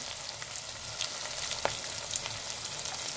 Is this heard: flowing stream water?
no